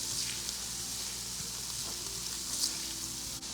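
Shrimp and garlic sautéing in a pan, a steady close hiss and crackle of frying with faint spatters, continuous and fairly quiet with no talking.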